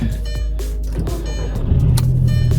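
A 2000s MK1 Audi TT 225 8N Quattro cold-starts up close: a low mechanical churn swells into a louder, rumbling idle that settles steadily.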